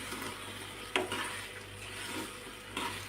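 Bread halwa is gently stirred in a pan just after milk goes in, a soft scraping swirl over a low simmering sizzle, with two sharper knocks of the spoon against the pan, quiet and close.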